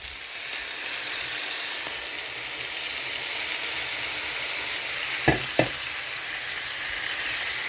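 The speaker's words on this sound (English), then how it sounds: "now it's time to add the tomatoes" Tomatoes hit a hot frying pan in a breakfast fry-up, giving a steady close sizzle throughout with two brief sharp knocks from stirring near the end.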